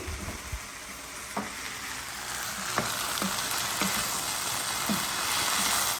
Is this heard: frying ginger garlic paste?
yes